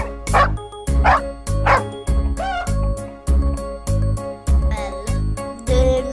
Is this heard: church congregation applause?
no